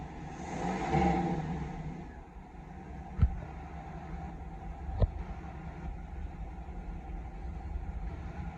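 A tuned car engine idles at about 636 RPM with a low, steady hum, swelling briefly early on and marked by two sharp clicks, with no voices.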